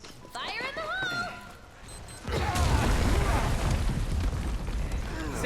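A Final Fantasy VII Remake explosion goes off mid-game, a sudden loud broadband blast that rolls into sustained rumbling debris, following a stretch of game sounds and a voice.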